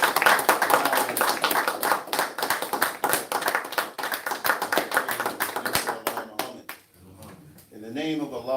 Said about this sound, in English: Can we give our brother a round of applause for his